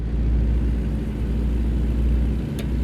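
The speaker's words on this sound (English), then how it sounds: "hearing the sounds of those gas-powered trucks" A gas-powered truck engine in American Truck Simulator drones with a loud, steady low rumble throughout, close and constant with no speech.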